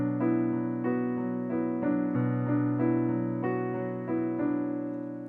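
A piano plays with chords in both hands, left hand joining the right, in a steady pulse of sustained, ringing chord changes with no talking over them.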